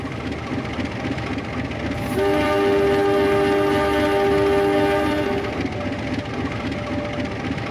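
A KA-144 Gaya Baru Malam Selatan passenger train passes with steady rolling rumble, and a long horn blast sounds over it for about three seconds midway, loud and close.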